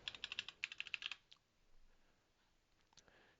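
Rapid keystrokes on a computer keyboard as a patient's NHI is entered into a hospital anaesthetics data system, a quick burst of close, crisp clicks for about a second followed by quiet room tone with a faint later click.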